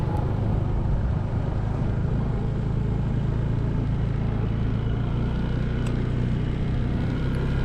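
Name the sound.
Honda ADV 160 scooter riding, quiet engine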